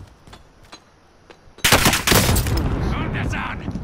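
A grenade thrown and bursting in Call of Duty Warzone, a sudden loud blast after a few quiet clicks, then rolling debris and gunfire trailing off, with a voice talking over it.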